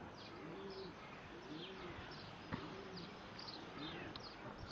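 Domestic pigeons cooing in a backyard loft, soft repeated coos recurring every second or so over a steady low background hum, with faint chirps mixed in.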